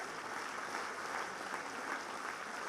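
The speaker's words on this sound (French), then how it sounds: "je vous demande d'applaudir et de remercier aussi très chaleureusement" A crowd applauds at a political campaign rally in Bastia, a soft, even, distant-sounding patter of many hands sustained without pause and with no voices over it.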